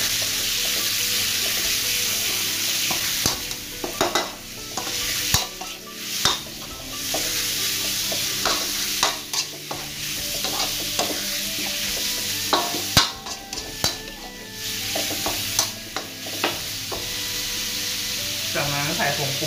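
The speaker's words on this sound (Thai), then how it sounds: "จากนั้นก็ใส่หมู3ชั้นของเราลงไปเลย" Pork belly frying in a hot pan, a dense, loud, steady sizzle with scraping stirs and clinks of a utensil against the pan throughout.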